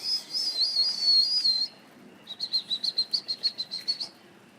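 A bird trapped in a gazebo chirping loudly and close, first a rapid twittering burst, then after a pause a quick regular series of sharp high chirps.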